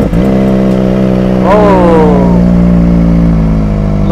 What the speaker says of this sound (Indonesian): Kalau nggak afdol kita nggak dengerin suara knalpot guys.